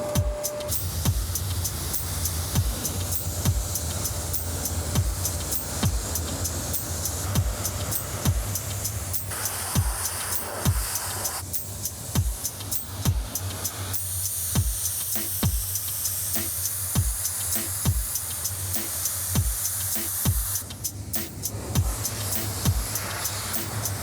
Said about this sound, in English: So I'm gonna give it one good hot water wash